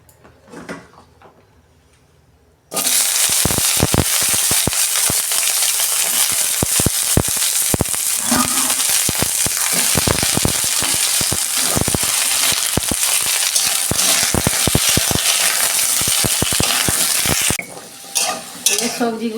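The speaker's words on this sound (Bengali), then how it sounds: "কড়াই আমি অল্প তেল দিচ্ছি, সবজিগুলো আমি 2 মিনিট ভেজে নেব" Chopped vegetables fry in a little oil in a kadai, starting with a sudden loud sizzle that holds for about fifteen seconds, broken by repeated clattering scrapes of a stirring spoon against the pan.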